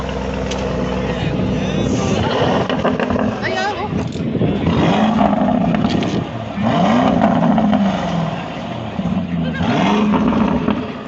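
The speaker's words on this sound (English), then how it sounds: "Got some lovely noises there from the V8. And away she goes." A Lamborghini Urus with a V8 engine revs loudly several times in rising and falling bursts, then pulls away with a throaty roar close by, with some speech underneath.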